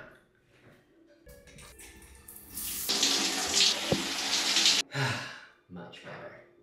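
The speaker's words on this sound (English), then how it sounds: "But first, shower time." Shower running in an airport airline lounge at Heathrow, a rushing spray of water that starts mid-clip, holds loud and steady for a few seconds, then cuts off, followed by brief splashes and a sigh.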